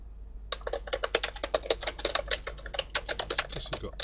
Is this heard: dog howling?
no